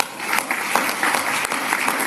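A crowd applauds steadily, a dense wash of clapping that continues without pause for a couple of seconds.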